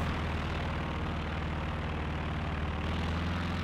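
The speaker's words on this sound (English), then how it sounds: "Recon plane up for Korea Power." Steady propeller drone of a recon plane flying overhead in Company of Heroes 2, a loud, continuous low engine hum filling the whole stretch with no pauses.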